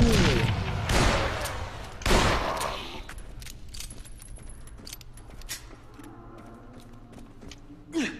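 Machine gun fire in the zombie game Dead Island Riptide, heavy bursts early on, then sparser clicks, rattles and shots, with a final sharp burst near the end.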